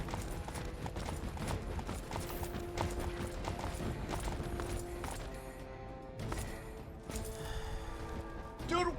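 Mad cows stampede in a video game: a constant, fast clatter of hooves runs under faint, muffled game action, with occasional clanks and thuds and a sharper burst near the end.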